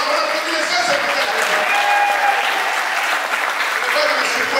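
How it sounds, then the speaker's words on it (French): Loud, sustained clapping from a congregation at an Easter morning worship service, the applause steady throughout with voices and cheers mixed into the noise of the crowd. "On applaudit les frères ce matin."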